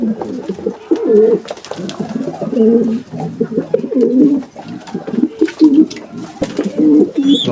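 Pigeons gather at their feed, cooing close by in repeated throaty, rolling bursts that overlap and pause irregularly, loud and near.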